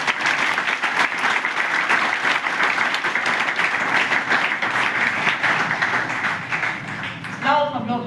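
A seminar audience in Haridwar breaks into loud, sustained applause, dense clapping filling the room steadily before fading at the end, where a voice briefly starts speaking.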